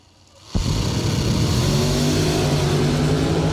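Hellcat dragster launching on a drag strip: after a brief quiet moment an engine roars in abruptly and holds a loud, rising drone with climbing harmonic tones as it accelerates hard, close and sustained.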